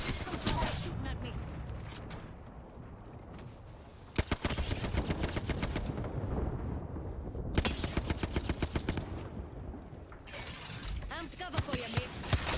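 Rapid bursts of automatic gunfire in Apex Legends, loud crackling volleys with pauses between them, mixed with mechanical clicks and game effects, and voices talking over parts of it.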